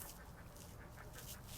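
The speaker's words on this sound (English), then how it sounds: "but there's heron chicks." Heron chicks calling from a nest, a faint, distant chorus of harsh, duck-like squawks that rises and falls repeatedly over a steady outdoor background hiss.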